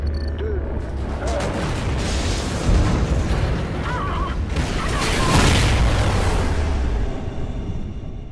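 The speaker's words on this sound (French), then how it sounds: "Explosion de la zone de stockage blindée, c'est moi." A loud, sustained blast rumbles as an armored storage area explodes in Call of Duty: Ghosts, with heavy booming swells rising and falling over several seconds amid mechanical noise.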